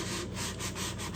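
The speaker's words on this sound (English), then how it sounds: "So I'm just lightly sanding" Light sanding along a cut line in wood to knock down grain raised by a gramil blade: a steady, close abrasive rubbing with rhythmic back-and-forth strokes, continuous and alone.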